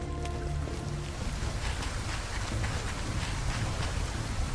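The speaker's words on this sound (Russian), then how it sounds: "уже и вечер наступил, и дождь вовсю льет. Тропический ливень, наверное." A tropical rain downpour in the video game Tropical Escape makes a steady, dense hiss of falling water. It continues evenly throughout, with no voices.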